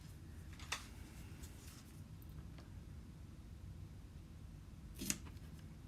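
Scissors cut through faux fur with two quiet, crisp snips several seconds apart, set against soft room hiss.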